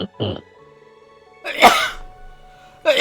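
A single sharp sneeze bursts out loud and close, with brief speech just before and another voice resuming right after.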